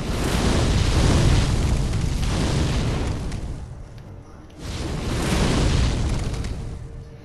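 Flame vent prosthetic fired in Sekiro, two long roaring whooshes of fire, each swelling loud and close then fading, separated by a short lull.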